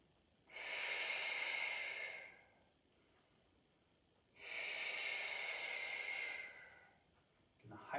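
Slow, deliberate breaths during a Pilates class: two long, airy exhales of about two seconds each, close and faint, with a short intake at the end and no talking.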